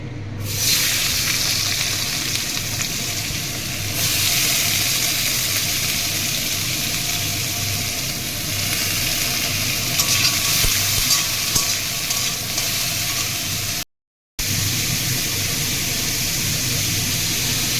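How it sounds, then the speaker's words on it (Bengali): Radish pieces fry in oil left from frying puti fish, a loud continuous sizzle and hiss with stirring, briefly cut off near the end before resuming. "এবার এই তেলেই আমি মূলোগুলো দিয়ে দেব"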